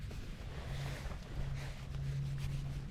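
Steady wind gusting across an open beach at a cold wild camp near a tent, a continuous low rumble and hiss of buffeting air on the microphone throughout.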